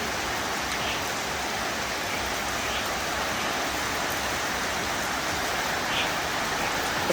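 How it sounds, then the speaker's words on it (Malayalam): Heavy rain pouring steadily, a dense even hiss at moderate level with no distinct thunderclap, alone without talk. "നല്ല മഴയാണ് കേട്ടോ നല്ല മഴ വെച്ചാൽ ഇടിയും എല്ലാം ഉണ്ട് കേട്ടോ ശരിക്കും പേടിപ്പെടുത്തുന്ന മഴയാണ്"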